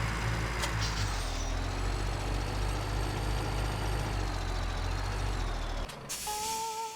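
Truck engine from Farming Simulator 17 runs loud and steady with a deep low rumble, then cuts off with a sharp air brake hiss near the end, followed by a brief tonal beep.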